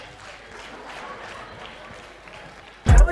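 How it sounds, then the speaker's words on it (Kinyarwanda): A comedy performance audience gives faint, diffuse applause for Pamela, which swells into a sharp, loud burst of clapping at the very end. "amashyi menshi cyane kuri Pamela"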